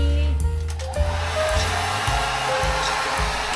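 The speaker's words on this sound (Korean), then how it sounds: "드라이기." A hair dryer in a Seoul hotel bathroom whirs with a steady airy roar, its motor pitch shifting a few times as it is switched or moved.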